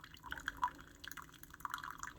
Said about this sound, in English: It is still putting water to the coffee.